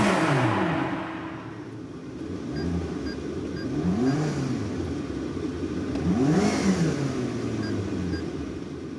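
A supercar engine with a tuned exhaust blips through repeated rising and falling revs over a steady rumble, up close and loud, with no talk.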